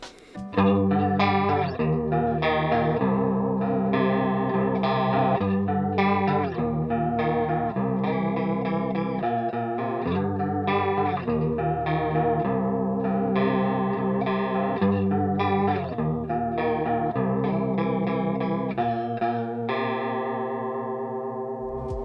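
Electric guitar through an Ian Rider Workshop CE-2 chorus pedal with every setting at maximum, drenched in a heavy, deep chorus, warbling and swirling throughout a continuous chordal passage, loud and up close, no voices.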